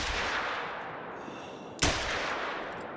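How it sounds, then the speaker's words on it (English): A single shot from a .243 single-shot handgun in the hunting video game theHunter: Call of the Wild, one sharp loud report with a brief tail over steady ambient outdoor noise. "this is a single shot, so you will have to reload"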